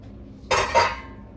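Cooked broccoli dropped into a pan: two quick clattering clinks of metal and cookware close up, a short scrape-and-tap pair over a quiet kitchen background.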